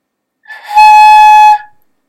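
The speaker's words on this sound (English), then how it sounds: "I produced a fairly decent sound on a flute head joint" Flute head joint played alone, a single loud sustained breathy tone about one second long with a soft onset and quick fade.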